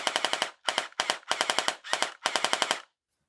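Cyberpunk 2077 Quasar DR-12 gel blaster firing on full auto: six rapid bursts of sharp snapping shots in quick rhythm, loud and close, with short gaps between bursts and silence at the end.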